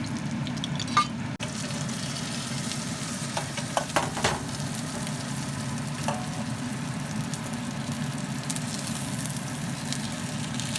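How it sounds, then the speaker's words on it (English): Five spice chicken pieces pan fry in a steady, even sizzle of hot oil, close and continuous, with a few light clicks and taps breaking through. "I have put it all in the pan and let it cook until golden brown on both sides."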